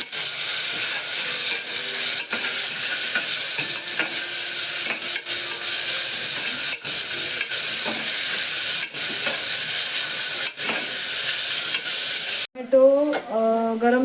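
Sliced onion, tomato and garlic sizzle steadily in a hot pan for Konkan-style mung bean curry, a dense continuous crackle with scattered stirring clicks, loud and close, ending in a brief burst of voice.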